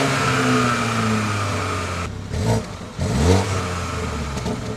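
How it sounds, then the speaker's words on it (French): A BMW 120i M Sport with a two-litre four-cylinder petrol engine runs at a steady drone, then its exhaust rises through two or three sharp revs with climbing pitch near the end, close and loud. "il y a une bonne petite sonorité sur ce petit 4 cylindres 2 litres"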